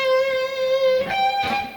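An electric guitar with delay plays a riff: one long sustained note, then two quick picked notes with echoing tails, clear and alone.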